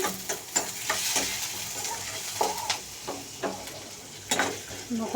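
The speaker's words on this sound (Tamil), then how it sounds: "கடுகு, உளுந்தம்பருப்பு, அப்புறம் வெங்காயம் இதெல்லாம் போட்டாச்சு" Mustard seeds, urad dal and onion fry in a pan with a continuous close sizzle, while a spoon stirs and scrapes in a loose, repeated rhythm.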